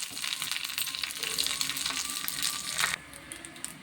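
Urad dal and mustard seeds fry in hot oil with a dense, steady crackle and sizzle that stays loud and close, then drops sharply to a softer hiss near the end.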